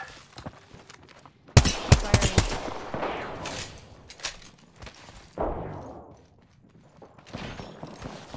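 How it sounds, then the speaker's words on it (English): Video game gunfire in a team shooter, a sudden burst of sharp rapid shots followed by scattered single cracks and a later short flurry, close and loud, with occasional voices between them. "Shots fired and they're hitting me."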